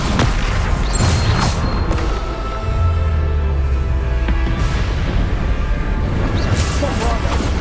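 Repeated Bombarda spell explosions in Hogwarts Legacy, booming blasts and crashes layered over continuous loud combat noise, with a voice calling out spell names throughout.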